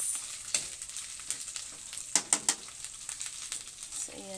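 Pork belly fries in its own rendering fat in a home kitchen: quiet, uneven crackling with scattered sharp pops, close by and with no talking.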